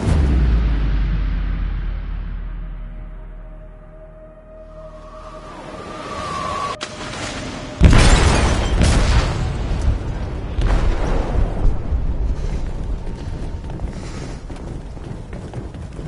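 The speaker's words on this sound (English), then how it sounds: "They detonated an explosive in the hold." Explosive detonated in a ship's hold in Detroit: Become Human: a low rumble and faint tone fade to near quiet, then a sudden loud blast bursts in, followed by sustained heavy rumbling and crashing debris.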